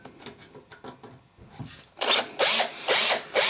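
An electric drill bites into metal at a centre-punched mark, starting with soft scraping and clicks, then several loud, rising bursts of whining, grinding drilling in short pulses.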